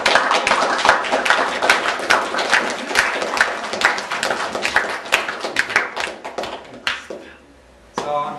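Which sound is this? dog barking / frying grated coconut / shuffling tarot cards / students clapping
students clapping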